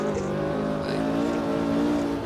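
A 1969-era race car engine in the racing game Automobilista 2 drones steadily at high revs, a continuous buzzing tone held close and fairly loud for a couple of seconds, with no talking.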